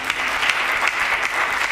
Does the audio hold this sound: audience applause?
yes